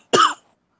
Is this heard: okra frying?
no